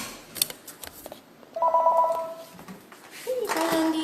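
A telephone rings in another room of a home, a faint electronic trill sounding once or twice at a distance amid light household noise.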